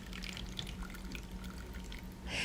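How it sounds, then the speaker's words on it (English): Filtered water pours steadily over persimmons in a blender jar for persimmon lemonade, a continuous close splashing trickle lasting a couple of seconds with a brighter gush at the end. "to this, I am going to add filtered water"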